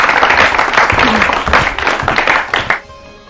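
A studio audience claps for the winners of an Urdu-language literary quiz show, a dense burst of hand-clapping that rolls on for about three seconds and then breaks off abruptly.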